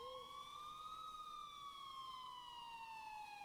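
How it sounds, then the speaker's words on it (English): A distant police siren wailing faintly, its pitch sweeping slowly up and then down in one long continuous tone with no other sounds. "until I finally heard sirens in the distance"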